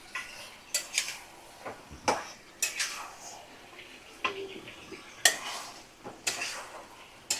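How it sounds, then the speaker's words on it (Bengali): A spoon scrapes and knocks in a pan as mutton is stirred with spices, irregular clattering strokes about once a second over a faint sizzle, close and moderately loud. "মশলার সাথে ভালো করে আমি সুন্দর করে নাড়াচাড়া করে নেব।"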